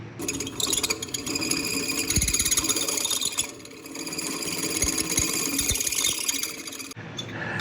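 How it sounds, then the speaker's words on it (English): A drill boring a hole in an exhaust step-down adapter for a Volvo 142, a steady high whine with rattling and squealing bursts that run almost continuously before cutting off near the end. "Already drilled a hole in it. Here's that happening."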